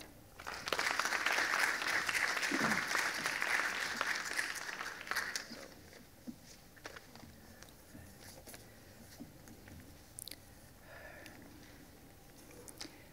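An audience at the Tagore Spring Festival applauds to welcome the evening's performers. The clapping is full and steady for about five seconds, then dies away into a quiet hall with faint stray sounds.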